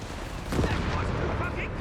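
Gunfire and bursts from a Company of Heroes 3 battle, German Jaegers engaging an American Greyhound armored car, a dense continuous rumble of shots and impacts that swells after the first half-second and holds steady.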